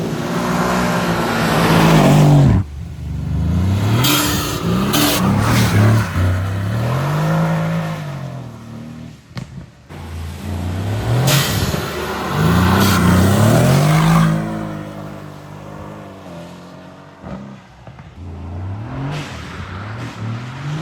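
A Mercedes C63 AMG engine revs hard and pulls away, rising and falling throttle sweeps with loud bursts and brief lifts between them, close and dominant throughout.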